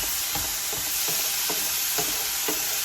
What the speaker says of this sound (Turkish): Böyle biber de kızartalım istedik.